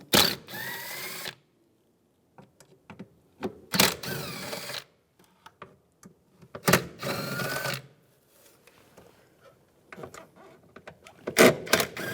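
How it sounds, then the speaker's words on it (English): A ratchet driving a T30 socket removes screws on a 2004-2010 BMW X3 during intake manifold work, giving short, sharp clicking bursts separated by quiet gaps and small taps, close up with no talk. "Now using a T30 socket, take these screws out."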